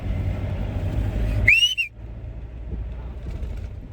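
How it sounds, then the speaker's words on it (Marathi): One sharp, rising-then-falling whistle blast cuts through loud rumbling background noise, then the scene continues more quietly. "शिट्टी का वाजवलं मित्रांनो"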